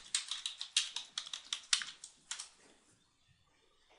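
Quick bursts of keystrokes on a computer keyboard as a new search term is typed, crisp clicks in a fast uneven run that stop partway, leaving near silence.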